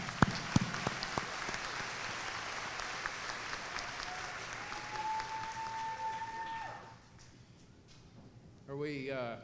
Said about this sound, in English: Please give a round of applause to these people who have helped you get here this evening